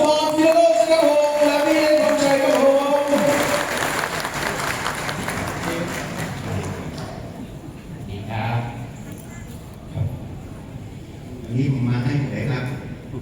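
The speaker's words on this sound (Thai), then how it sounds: "ขอเสียงปรบมือต้อนรับอาจารย์" An audience at a solar-panel product launch seminar in Thailand claps to welcome a teacher, loud at first with a voice or music tone over it, then thinning to scattered claps and murmurs.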